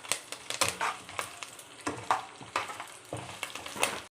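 Dried red chillies and curry leaves crackle in hot tempering oil with chana dal, urad dal and cumin for a white chickpea dish, giving a close, steady sizzle punctuated by repeated sharp pops and spatters, with no talking.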